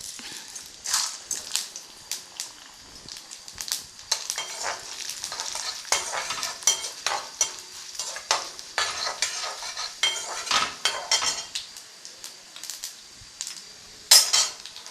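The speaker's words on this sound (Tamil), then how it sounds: "இப்போ கடுகு நல்லா பொரிஞ்சு போச்சு. அடுத்தது உளுந்தம்பருப்பு கொஞ்சம் போடுறேன்." Mustard seeds and urad dal fry in hot oil in a pan for mango rice, crackling and sizzling up close while a spoon repeatedly scrapes and clinks against the pan in uneven strokes.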